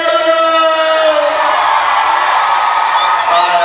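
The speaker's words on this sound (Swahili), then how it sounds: "Naomba nisikie vigelegele." A crowd at a children's confirmation celebration in Tabata ululates, high trilling voices rising together in a loud, sustained wash with scattered shouts and whoops layered on top.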